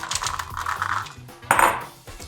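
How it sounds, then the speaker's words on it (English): Rinsed, drained chickpeas are tipped onto a metal sheet pan with potatoes, giving close rattling clatters in two short bursts. "we're gonna add some chickpeas that have been rinsed and drained"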